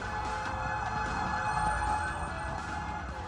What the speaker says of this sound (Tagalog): Sunod-sunod ang dating ng mga fire truck.